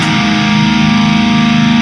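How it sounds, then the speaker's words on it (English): A heavily distorted electric guitar chord rings out loud and sustained, a thick, saturated tone held for about two seconds with no other sound. "this chord with a bit of distortion, or a lot of distortion"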